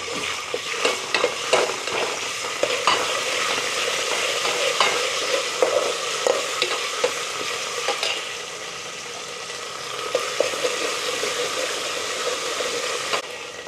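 Onion and ginger frying in a pan for Telangana-style boti chaaru, with a steady close sizzle and repeated scraping strokes of stirring, no talking.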